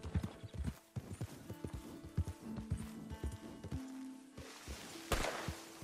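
Horse hooves clip-clop in a steady gait while riding in the Western game Red Dead Redemption 2, close and fairly loud, with a brief whinny near the end and faint game voices underneath.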